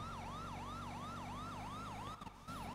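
Wailing emergency vehicle sirens in GTA sweep up and down in a steady rapid rhythm, loud and close over a low engine drone, briefly cutting out near the end before resuming.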